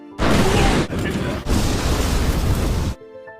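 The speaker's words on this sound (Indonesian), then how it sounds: "saat ditembakkan, Laurot terlempar karena hentakan kuat dari meriam tersebut" A loud, sustained booming blast with a brief dip, like heavy cannon fire, roaring for nearly three seconds before cutting off abruptly.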